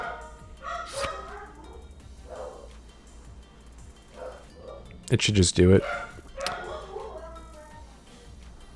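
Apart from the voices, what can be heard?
dog barking, freaking out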